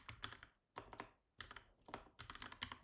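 Fast bursts of typing on a computer keyboard, crisp close clicks in three or four clusters separated by short pauses, quiet overall, with no voice over it.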